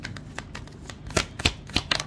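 Tarot cards shuffled and drawn from a deck, a few soft crisp flicks and snaps, close and fairly quiet, with no talking.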